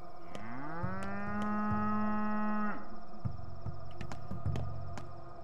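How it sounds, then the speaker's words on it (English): A cow moos in the video game Pathologic 2: one long, loud, drawn-out low moo near the listener, followed by a shorter grunting call over faint background game sounds. "Was that a cow? Was that that bull I bought?"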